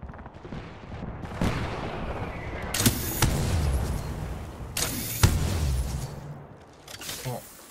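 Sniper charge rifle shots in a first-person shooter video game, two sharp bright bursts a couple of seconds apart with a humming charge tail, among other gunfire and game noise.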